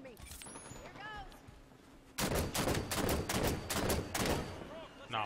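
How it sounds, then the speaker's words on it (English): Gunfire in the video game Halo 5: Guardians, a rapid burst of loud repeated shots running for about three seconds after a quieter stretch with a voice talking. "Soldier firing on me."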